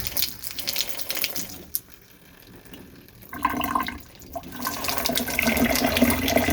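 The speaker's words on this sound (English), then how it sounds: "what you end up with is water flowing into a pipe like that, and it can get pretty loud" Water from a shower drain runs down a pipe to a trap roughly 18 inches below, in a newly installed shower surround in an off-grid home: a loud, steady rushing gush that dips briefly, then swells back fuller and stays strong.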